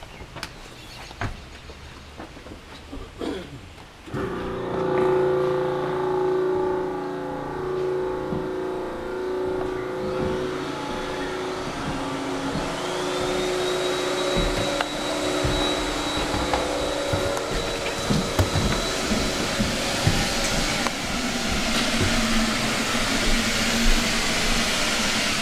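A Recoil 3 XPS trailer-mounted, propane-heated carpet cleaner runs indoors at the end of 100 feet of hose on an off-white carpet, its steady whining suction starting abruptly after a few seconds and roaring continuously, with a rising high tone partway through.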